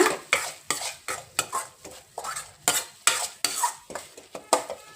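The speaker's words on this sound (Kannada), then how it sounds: "ಈಗ ಫೈನಲಿ ಒಂದು ಮಿಕ್ಸ್ ಮಾಡಿ ಇದನ್ನು" A utensil stirs and mixes salted masala with blanched broccoli in a pan, giving a rhythmic series of about fourteen sharp scraping strokes, close and distinct, over a faint sizzle.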